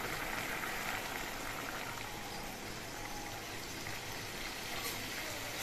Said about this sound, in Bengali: সর্ষে বাটা দিয়ে আর 2-1 মিনিটের মতো আমি ফুটিয়ে নেব